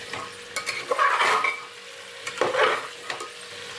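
Pav bhaji vegetables being stirred in a pan, with a few distinct scraping strokes over a faint sizzle, close up and without talk.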